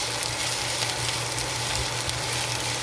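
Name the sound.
garlic frying for beef pepper fried rice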